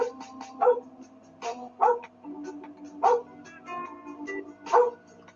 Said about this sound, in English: doggy barking, always fun. That's part of the clip.